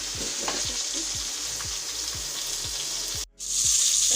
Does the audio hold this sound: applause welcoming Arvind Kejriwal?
no